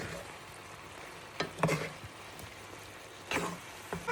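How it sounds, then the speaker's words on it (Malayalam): Beef and vegetables with oyster sauce stir-fry in a pan with a soft, faint sizzle, broken by a few scraping stir strokes. "എന്നിട്ട് നമ്മളിങ്ങനെ രണ്ടും കൂടെ നന്നായിട്ട് മിക്സ് ചെയ്ത് കൂട്ടുന്നു"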